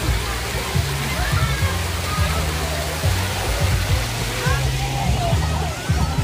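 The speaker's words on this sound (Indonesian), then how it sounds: "Air terjun buatan." Continuous rushing, splashing water from an artificial waterfall beside a pool at a tourist spot fills the scene, with voices and activity mixed in underneath.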